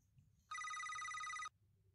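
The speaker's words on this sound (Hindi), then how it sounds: "एक मिनट, फोन आ रहा है।" A telephone rings once in a quiet room, a single bright electronic trill lasting about a second and standing out clearly before stopping abruptly.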